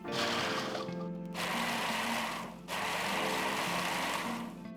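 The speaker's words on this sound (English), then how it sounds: "Lock the bowl in and give it a few pulses until the crackers have broken down." Food processor pulsing crackers and sugar into crumbs for a cheesecake base, loud whirring bursts in three pulses, with two short cut-offs between them and a steady motor hum within each burst.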